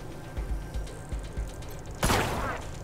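A single loud gunshot burst rings out in Wasteland 3 combat, following a run of soft rhythmic thumps and mechanical clicks from the turn-based game.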